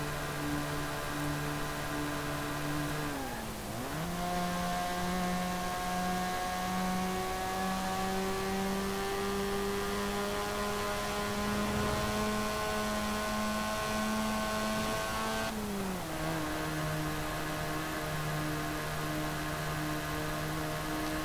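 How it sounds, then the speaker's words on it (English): The rotary engine of a 1972 Mazda Cosmo 110S Series II in Forza Horizon 4 drones and whirs at high revs, holding a steady buzzy pitch with two brief dips and climbs as it shifts, continuous and alone. "typical high revving sounding rotary engine there"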